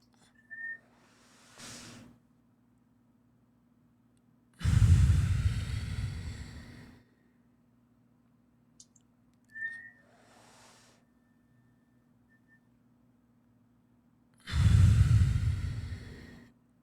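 Slow breathing with thin, brief whistles through pursed lips, a reverse whistle heard as air moves through the nose, followed by two long, loud rushing exhalations separated by quiet pauses.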